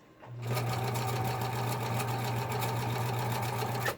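A Viking 120 sewing machine stitches fabric on a longer stitch setting, its steady motor whir running close and alone for about four seconds with a rapid, even needle rhythm.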